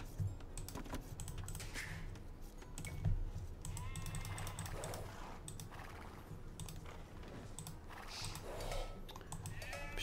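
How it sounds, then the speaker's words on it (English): Sheep bleat in the video game Age of Empires II, short game bleats rising over a fast clatter of computer keyboard typing and mouse clicks, all fairly quiet. "Sheep here. Why are these sheep so far away from my base?"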